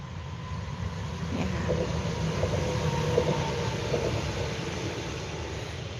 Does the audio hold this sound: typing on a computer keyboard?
no